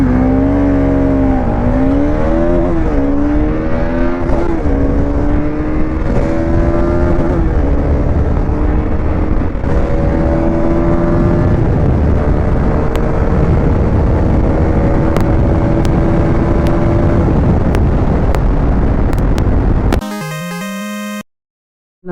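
Rs200, D250 and D400 motorcycles drag racing, engines loud and close as they rev hard through rising gear pulls and shifts for about twenty seconds before cutting off abruptly.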